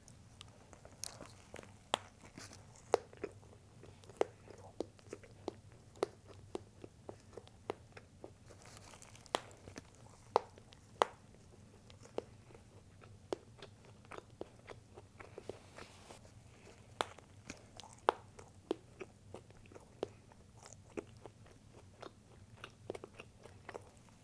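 Someone bites and chews a Quiznos peppercorn steak sub on wheat bread up close, with crisp crunching bites and soft wet chewing recurring irregularly over a quiet background.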